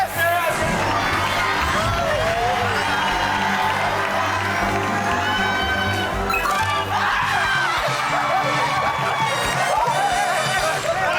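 A loud Family Feud studio audience shouts and cheers all at once, voices overlapping in a sustained roar with scattered higher yells rising above the din.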